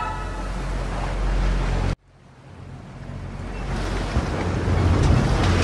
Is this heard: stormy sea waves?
yes